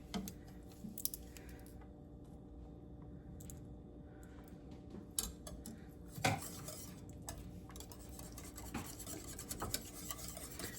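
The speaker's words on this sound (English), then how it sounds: "We're going to give that a stir. Let that sour cream melt in." A sour cream sauce gets stirred in a pan, with a spoon clinking and scraping against the metal at close range over a faint background hum, and no one speaking.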